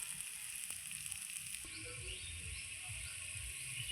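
Cauliflower with poppy seeds frying in a pan, giving a steady, soft sizzle that runs throughout with a few faint clicks of utensils.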